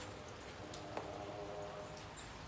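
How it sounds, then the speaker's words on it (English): Rain falls on a wet day in San Diego, a faint, steady hiss with scattered soft patters and one slightly sharper drip. "it is a rainy day here in San Diego"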